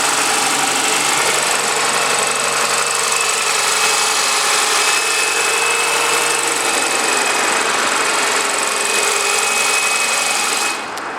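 A 2008 Toyota Avensis 2.0 VVTi D4 engine idles steadily with the hood open, giving a continuous whirring, ticking hum with a faint drone of road traffic behind it.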